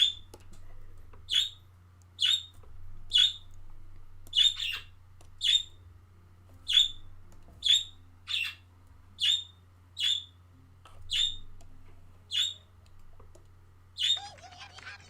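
Pet birds indoors call over and over, about a dozen sharp, fairly loud chirping squawks at a steady pace of roughly one a second, over a low constant electrical hum.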